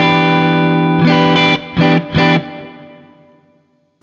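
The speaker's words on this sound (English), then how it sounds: "So I'm using Valhalla Vintage Reverb," Distorted electric guitar through an amp sim with Valhalla Vintage Reverb plays a sustained chord, then three short stabs, leaving a long reverb tail that fades slowly into silence.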